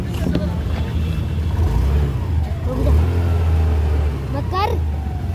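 A Honda Activa 6G scooter's engine is revved gently, a low steady drone swelling and easing over several seconds, with voices nearby.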